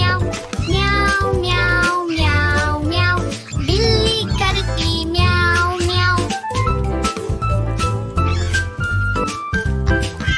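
Sung cat meows in a Hindi nursery rhyme for children, a repeated melodic miaow miaow voiced by a singer over bright, loud musical backing, imitating a cat rather than a real animal.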